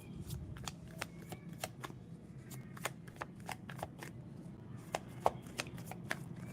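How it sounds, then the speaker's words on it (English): Tarot cards shuffled and drawn, with crisp, irregular riffling snaps and slaps close by over a faint room hum, and no voices. "I'm again pulling six cards for you"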